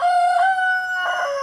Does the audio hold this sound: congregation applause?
no